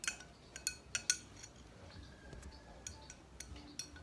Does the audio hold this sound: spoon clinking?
yes